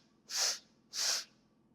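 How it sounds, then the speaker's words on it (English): Breathwork inhale taken through the nose in stages, heard as two separate airy breaths about half a second apart, close and clear in a quiet room. "we're going to inhale through the nose, and we're going to inhale through 3 stages"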